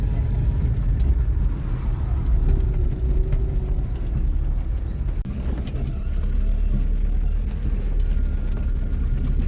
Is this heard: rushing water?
no